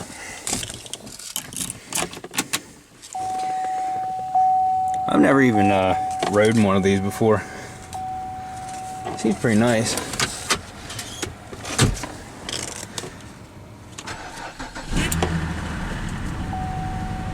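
A car at a Copart auction yard is started and left running, its engine turning over late and idling low under close-up talk, with a steady chime tone and clicks of doors or windows earlier on.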